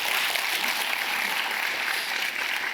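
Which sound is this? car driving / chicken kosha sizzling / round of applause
round of applause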